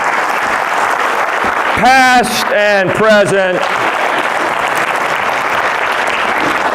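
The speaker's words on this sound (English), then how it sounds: "Clap for all these educators in your midst." An audience at a stand-up comedy show keeps up a continuous roar of clapping for the educators in the crowd, while a voice speaks briefly over the middle of it.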